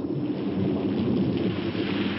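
A cartoon thunderstorm: a loud, dense wash of rain and rumbling with no break, steady and full over the whole stretch, and no voices.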